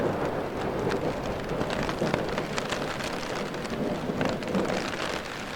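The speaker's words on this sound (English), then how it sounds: "Well, we're getting a big thunderstorm here." Heavy rain pours steadily during a thunderstorm in the Canadian Rockies, with wind gusts and low rumbling thunder rolling beneath a dense, continuous wash of drops close by.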